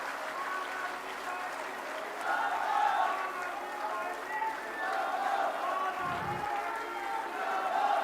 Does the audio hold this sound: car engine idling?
no